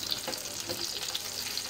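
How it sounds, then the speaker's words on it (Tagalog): Homemade skinless longanisa sausage fries with garlic in a pan, a steady close hissing sizzle with faint crackles and soft stirring scrapes, no talking. "pinipirito ko na yung ginawa kong langganisa"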